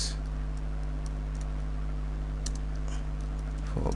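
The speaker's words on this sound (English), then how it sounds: "let's just type a few tests" Computer keyboard typing, a few light scattered key clicks over a steady background hum, fairly faint and with no talking.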